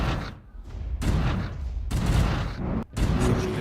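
Space fleet weapons and torpedoes firing in the strategy game Stellaris: dense, booming volleys of loud shots that fill the clip, with two short gaps near the start and one late break.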